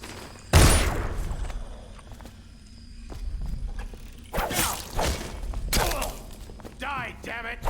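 Gunfire in the game Dishonored: a loud shot bursts out early, followed later by clustered bangs and clattering impacts amid game voices and footsteps.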